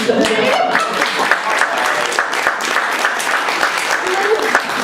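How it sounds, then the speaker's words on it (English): Group applause in a home-learning setting, many hands clapping steadily and fairly close for about five seconds, with a little speech-like noise mixed in. "maybe if you clapped your hands"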